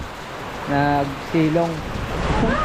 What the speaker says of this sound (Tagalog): umulan na ng malakas. Grabe, lakas na ulan.